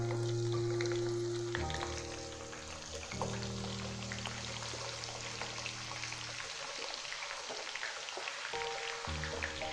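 Finely chopped onion hits hot oil for a dal tadka, a steady loud sizzle of frying with a low hum under it, no voices.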